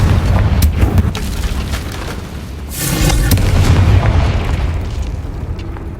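The Confringo blasting spell in Hogwarts Legacy, heard as a loud, sustained booming roar with crackling bursts, a heavy swelling rumble that fades slightly and then rises again.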